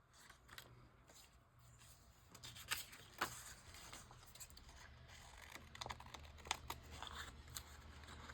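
Scissors trimming a sheet of paper, with quiet irregular snips and crisp paper rustles close by.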